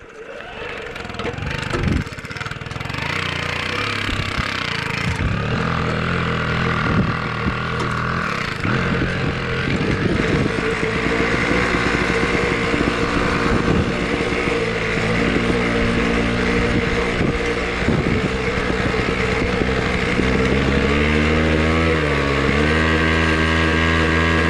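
A two-stroke diesel moped engine runs loudly and continuously up close, a buzzing, pulsing drone whose pitch rises and falls as it is revved, with a rough start at the beginning.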